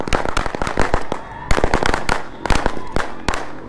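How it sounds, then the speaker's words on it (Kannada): Firecrackers set off to welcome a 14-foot Ganesha idol arriving in Davanagere, a rapid, loud string of sharp cracks and pops bursting in irregular clusters close by, with faint crowd noise behind. "ಪಟಾಕಿ ಪಟಾಕಿ ಹಚ್ಚಿ ವೆಲ್ಕಮ್ ಮಾಡ್ತಾ ಇದ್ದಾರೆ"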